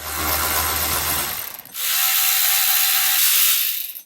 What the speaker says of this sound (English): we need to remove this duct, and also these 2 screws